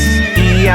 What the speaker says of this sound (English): And in the zoo he met a horse